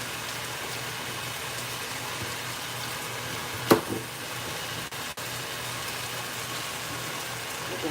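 A pot cooking on a stove in a kitchen during okra prep gives a steady low bubbling, sizzling wash throughout, with a sharp clatter near the middle.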